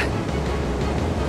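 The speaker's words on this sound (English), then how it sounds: "The waves are getting steep." Stormy ocean waves in Kingdom Hearts Dream Drop Distance surge as a dense, steady roar of surf and wind, loud and continuous with no pauses.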